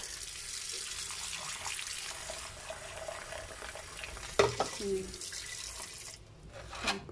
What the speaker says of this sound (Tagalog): Lalagyan ng tubig.